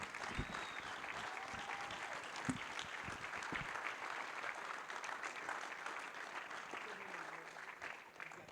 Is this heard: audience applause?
yes